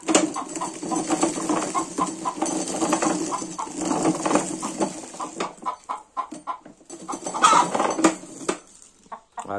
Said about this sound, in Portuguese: A galinha tá embaixo.